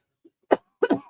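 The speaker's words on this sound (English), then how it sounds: "that cough came out of nowhere" A person coughs up close, with a faint throat sound first, then one sharp cough and a quick double cough in the quiet.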